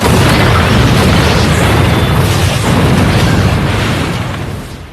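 A bomb goes off in a film scene, a loud, sustained explosive roar with deep booming rumble filling the whole stretch and slowly fading at the end.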